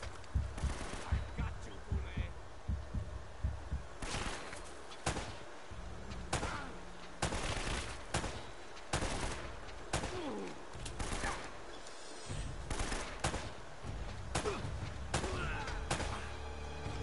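Shotgun blasts and scattered gunfire in the action video game Uncharted, irregular heavy booms spread across a long firefight with a background of game noise and a voice talking between shots.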